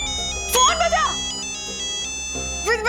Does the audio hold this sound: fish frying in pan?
no